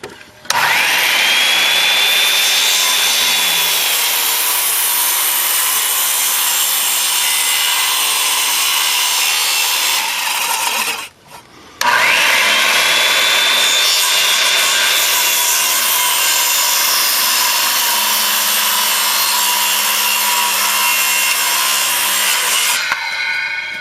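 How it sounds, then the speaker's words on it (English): A circular skill saw rips through a wooden stair stringer in two long, loud cuts, each a sustained high whine with a brief pause between them, up close with no talking. "I come just to the line with the skill saw"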